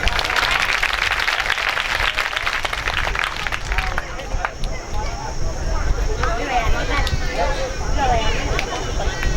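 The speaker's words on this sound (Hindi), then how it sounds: "ऐसे नहीं, जोरदार तालियां बजा।" Crowd clapping loudly at a Hindu religious katha gathering, a dense sustained burst of applause that carries through the clip with a murmur of voices beneath it.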